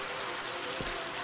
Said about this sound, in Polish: Deszcz pada znikąd, takie trochę japońskie klimaty